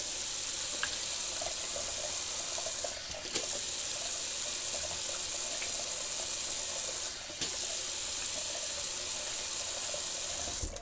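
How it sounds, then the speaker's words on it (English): Tap water runs steadily into a sink while an alum block is rinsed off during a wet shave with Ivory soap, a continuous close hiss with a couple of brief dips where the flow is interrupted. "let's rinse off this alum"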